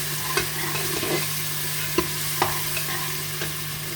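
Turnip and spinach fry gently in a pan with ginger, a soft continuous sizzle broken by a few sharp stirring knocks of a spoon against the metal, fairly quiet and close.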